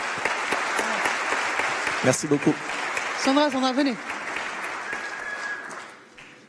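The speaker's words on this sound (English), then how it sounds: "So a round of applause." Audience applause at a conference, dense clapping filling the first half and fading out, with a few spoken words from a presenter over the claps.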